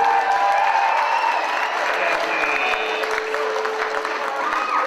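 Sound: audience applause

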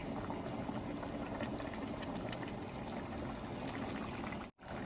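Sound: soaked biryani rice gently stirred in boiling water

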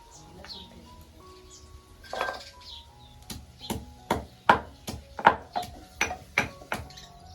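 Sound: crushing garlic

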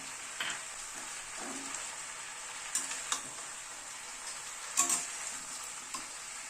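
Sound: chicken being stir-fried with spices, vegetables and tomato

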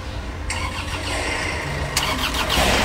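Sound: Isuzu Traga diesel pickup engine starting

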